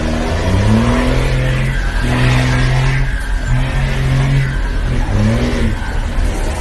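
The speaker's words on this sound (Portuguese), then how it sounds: "Tô fazendo pop-pop na porta do batalhão pra mim não fazer nas outras ruas." A truck engine revving hard in repeated rising and falling surges outside a police battalion, loud and close with a rough exhaust note and crackling pops between revs.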